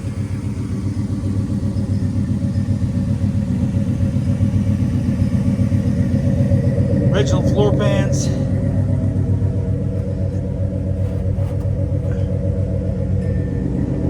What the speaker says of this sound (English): This car just purrs like a kitten.